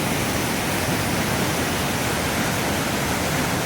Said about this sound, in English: This is the waterfall at the end of the pool